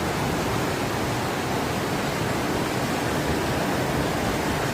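Floodwater about ten feet deep surges with great pressure along a town road, a dense, steady roar of rushing water that fills the whole stretch without a break and with no voices.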